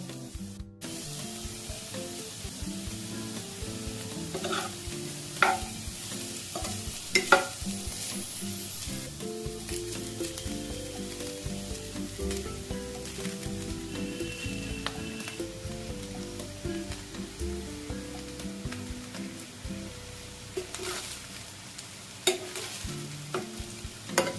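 Vegetables and rice for restaurant-style fried rice stir-fried in a pan: a continuous sizzle with scraping and tossing strokes from a spatula, and tuneful music playing underneath throughout.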